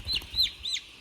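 Broiler chicks on a poultry farm give three short, high peeping chirps in a steady rhythm, close and fairly clear over a low background rumble.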